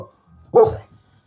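A dog gives a single short, loud bark close by in a home during pumpkin carving, a sharp burst in the middle of an otherwise quiet moment.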